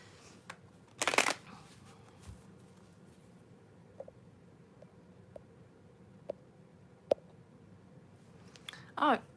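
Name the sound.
shuffling a deck of tarot cards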